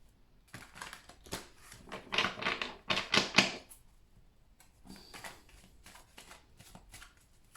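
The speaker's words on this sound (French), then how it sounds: "je vais brasser et on va aller demander" A deck of oracle cards is shuffled up close. Two bursts of rapid riffling and clattering are heard, the first loud, the second softer, with no talk.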